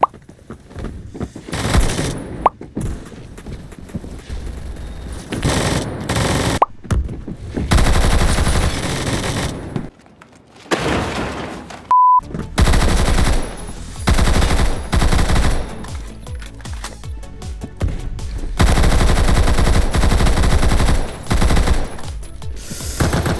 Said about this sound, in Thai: MG 42ซึ่งถือว่าแบบยิงค่อนข้างเร็วมาก